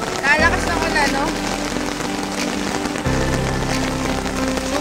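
Heavy rain pours steadily onto a fishing spot near a river in Paombong, Bulacan, a dense close hiss of drops throughout, with people talking over it.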